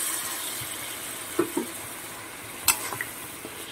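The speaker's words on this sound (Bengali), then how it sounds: "দিয়ে মিনিট 5 কিছু মশলাটা কষিয়ে নেব" Spice paste with turmeric, salt and water being sautéed in a pan for a Bengali fish curry with green banana and potato, a soft steady sizzle with a few brief utensil clinks.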